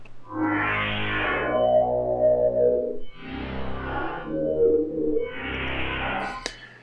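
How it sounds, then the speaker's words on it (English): A sustained, harsh, heavily effected synth-like tone from an infinite-sustain specialty reverb swells and holds in long bursts, bright and distorted with a washy, endless reverb tail. "an infinite sustain with very bright high frequencies going on"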